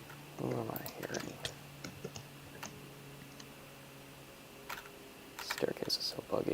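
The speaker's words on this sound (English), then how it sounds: "I definitely heard Shadow's keyboard there." Faint scattered clicks of computer keyboard typing come in short bursts, with quiet tones and occasional voice-like sounds in the background.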